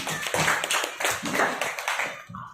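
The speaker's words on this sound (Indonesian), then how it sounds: "beri tepuk tangan dulu untuk Ririn" Dense, close applause from a group of people clapping steadily for a couple of seconds after a classroom presentation, tapering off at the end.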